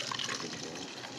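Water pours steadily into a bowl of crespelle batter, making a continuous close splashing, trickling flow for about a second.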